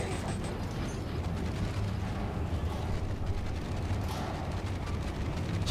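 Rapid gunfire and explosive bursts from the video game Dead Space 2, a steady dense barrage with no pauses, lasting throughout at moderate level.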